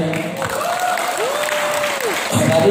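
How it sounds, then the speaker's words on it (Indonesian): An audience at a comedy event for bank workers claps in a steady, moderate round of applause, with voices and a whistle-like tone faintly mixed in. "tepuk tangan dulu buat acara ini"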